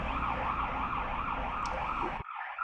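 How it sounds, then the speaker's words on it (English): Ambulance siren wailing close by in a steady rising-and-falling cycle, loud and continuous, then cutting off abruptly near the end as the vehicle passes. "I'll just let this ambulance go by."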